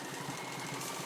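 A sewing machine stitching XXL scrunchies in a small studio gives a steady, rapid mechanical chatter with an even rhythm, close up and continuous.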